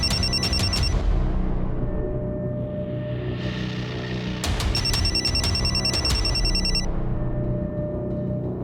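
A telephone bell rings in two bursts of rapid trilling, loud and nearby, over a steady background hum with no talking.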